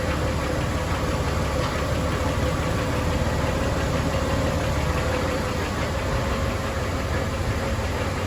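A Jeep engine idling with its air conditioning compressor engaged and staying on: a steady, low mechanical drone with a faint whine, constant and unchanging, with no voices.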